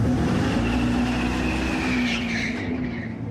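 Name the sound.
Dodge Charger electric car with artificial exhaust sound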